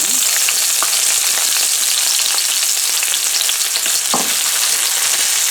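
Steady, close sizzling of food frying in hot sesame oil in a home kitchen pan while making seafood egg noodles, with occasional stirring scrapes and no voices.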